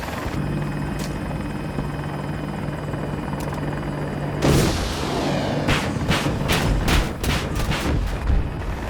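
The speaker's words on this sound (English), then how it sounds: "Just note there that I stopped firing early because I didn't want to waste rockets." An Apache helicopter in Battlefield 2042 drones steadily, then fires a volley of 127mm rockets as a series of sharp, loud launches in quick succession over the continuous rotor noise.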